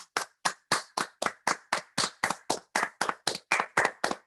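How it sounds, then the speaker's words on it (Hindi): An audience claps in welcome for a guest joining a Zoom panel, with steady rhythmic hand claps, about fifteen distinct beats in four seconds, fairly close and loud with no talk over them. "तो उनको जोरदार तालियों से स्वागत करते हैं"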